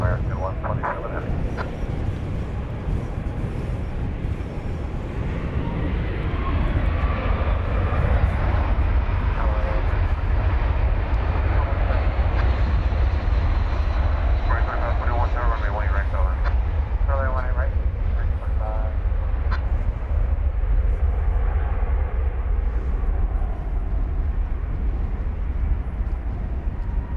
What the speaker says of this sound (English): this is our second 777-200 of the morning